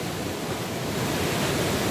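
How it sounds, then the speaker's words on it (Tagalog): Big surf crashing on a Zambales beach, a dense, loud, continuous roar of breaking waves with wind buffeting the microphone and no break in the wash. "sobrang lalaki ng alon dito"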